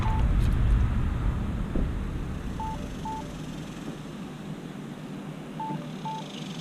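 A Bluetooth headset on a Can-Am Ryker plays a few short pairing beeps in spaced pairs, faint over a constant low rumble of engine and road noise.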